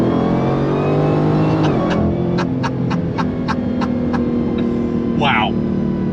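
A 2023 Dodge Demon 170 V8 sits close and loud, a deep droning idle that jumps into a sharp throttle blip, followed by a quick run of crackling pops before settling back to a steady rumble, with a short voice near the end.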